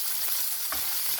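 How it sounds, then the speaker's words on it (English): Onion fries in a pan for tomato vermicelli upma, giving a brief, even sizzling hiss heard up close with one soft stirring knock and no talk. "fry till onion becomes translucent and the raw smell of"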